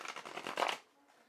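Playing cards are shuffled by hand in a quick riffling burst that stops abruptly, close and fairly quiet, with no talk.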